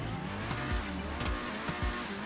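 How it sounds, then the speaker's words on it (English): A Pegassi Torero supercar in GTA Online, its engine revving and shifting through rising and falling pitch sweeps, with tire squeal and skidding, loud and close. "Something that I'm a huge fan of when it comes to the Torero is the engine sound."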